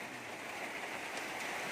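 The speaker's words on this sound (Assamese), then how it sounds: "নেৰা নেপেৰা বৰষুণ" Steady, continuous rain hisses evenly throughout at a moderate level, a dense unbroken wash of sound with no voices.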